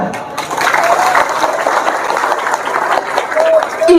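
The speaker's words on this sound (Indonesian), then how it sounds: "Tepuk tangan." An audience at an Indonesian Nahdlatul Ulama gathering breaks into dense, sustained applause for a few seconds, loud and close, with some voices mixed in.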